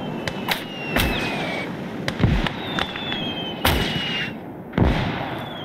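Mortar shells burst in the WWII game Call to Arms – Gates of Hell, several sharp blasts at irregular gaps, some booming and close, others lighter, over a noisy battlefield with a faint whistling whine.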